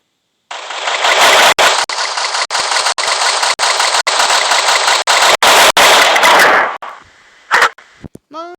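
Rapid automatic rifle fire in the mobile shooter game Free Fire: a long loud sustained burst broken by brief gaps, followed by a few sharper single shots and a metallic reload or ring near the end.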